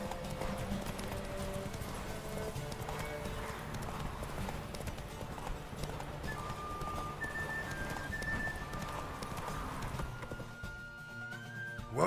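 Hooves of Roach, a horse in The Witcher 3, clip-clop in a steady galloping rhythm throughout a race, close and loud over game music, with a brief whinny and a voice speaking near the end.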